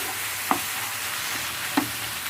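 Parotta being mixed with salna in a hot pan, a steady close sizzle with two distinct clacks of a ladle striking the pan, no voices.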